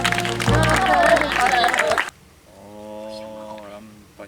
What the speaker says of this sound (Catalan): Un aplaudiment, ja ve per aquí el mag